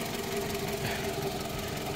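A 2006 Toyota RAV4's 2.4-litre VVTi 16-valve engine idles steadily up close, a continuous, even rumble with a faint knocking texture and no breaks.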